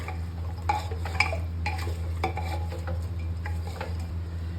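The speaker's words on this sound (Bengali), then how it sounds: "এটা করে দেবো মিক্স।" A spoon scrapes and clinks against a pan while salted mutton curry is stirred, with a series of sharp metallic taps over a steady low hum, near and distinct with no speech.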